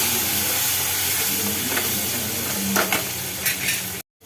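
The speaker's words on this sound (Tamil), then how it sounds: "முருங்கைக்காவை வதக்கியாச்சு" Sliced drumstick pods sauté in a hot pan, giving a steady, close sizzle and hiss with occasional stirring scrapes before the sound cuts off abruptly.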